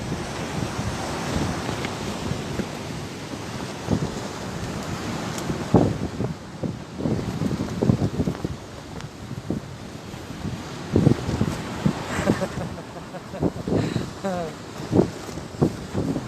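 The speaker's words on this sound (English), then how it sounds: "It's not even holding bottom now, it's blowing like mad." Strong wind gusts roar across a sea shore during a fishing session, buffeting the microphone over crashing surf, with brief voices breaking through now and then.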